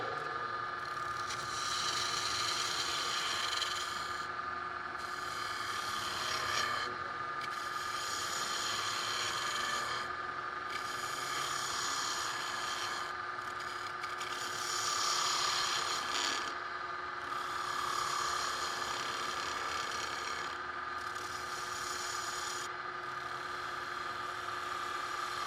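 Wood turning tool riding the bevel while cutting a captive-ring rattle on a lathe, a steady whirring hum with rasping cutting noise that surges and eases in repeated passes, continuous and close.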